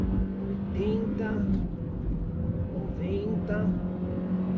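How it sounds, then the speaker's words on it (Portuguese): A compact SUV with a naturally aspirated engine accelerates at full throttle, a steady engine drone rising in pitch under continuous road and wind noise, while someone talks over it. "depois vamos acelerar tudo aí"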